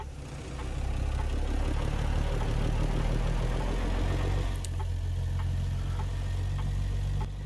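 A truck engine in American Truck Simulator rumbles low and steady, rising slightly as the rig pulls off from a stop in low gear, a loud continuous drone with no talking.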